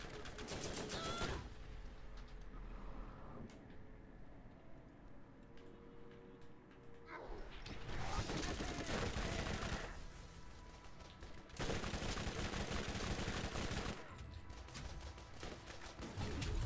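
Gunfire in the video game Borderlands comes in dense bursts of rapid shots, with loud volleys separated by quieter stretches of mechanical clicking.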